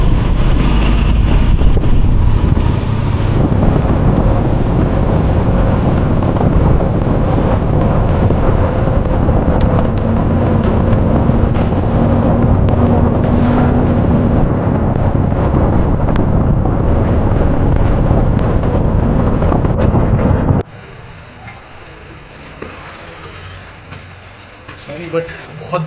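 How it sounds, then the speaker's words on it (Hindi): Heavy rain pours during an outing near a temple in Bhor, a dense, loud, continuous hiss and roar that cuts abruptly to a quieter level near the end. "बहुत तेज़ बारिश है।"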